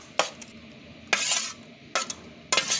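Raw mango pickle is spooned from one vessel into another, giving a few sharp metallic clinks and scrapes of a utensil against metal pots at irregular intervals, close and fairly faint.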